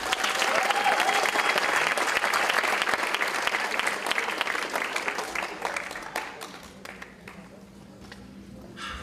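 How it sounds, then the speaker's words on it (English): Loud, dense crowd applause at a South St. Paul community coronation ceremony, steady at first and then thinning and fading toward the end as the clapping dies down. "Let's give them one more big round of applause."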